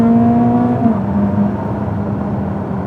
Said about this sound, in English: the engine still revs to more than 8 and still makes a good noise